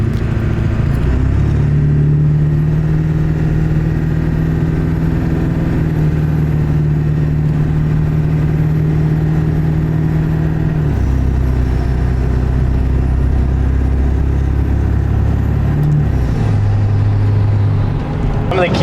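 A car running a Hydra chip tuner racing tune drives along with a steady engine drone and road rumble throughout, its pitch shifting with the throttle, while a person talks over it.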